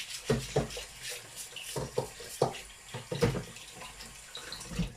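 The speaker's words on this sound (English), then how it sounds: "Let me just wash my hands." A tap runs while hands splash and rub under the water, with irregular wet slaps over the steady flow, close by.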